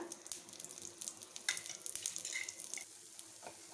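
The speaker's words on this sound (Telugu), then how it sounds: "నెయ్యి వేస్తున్నాను నేను ఆయిల్ కాకుండా నెయ్యి వేయడం వల్ల బాగుంటుంది దోశ కూడా" Ghee sizzles on an egg dosa cooking in a pan, a quiet crackling fry dotted with irregular little pops and spits close by.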